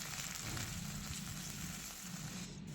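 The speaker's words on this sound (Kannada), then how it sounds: "ತಂಗೆ ಫ್ರೈ ಮಾಡ್ಕೊರಿ. ಒಂಚೂರು ಎಣ್ಣೆ ಹಾಕಿ" Ginger, garlic and coriander stems frying in a little oil, a soft continuous sizzle close by with faint stirring, no talk.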